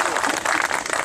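A crowd at a protest rally for a visiting municipal leader claps in dense, continuous applause that stays loud and even throughout the short moment.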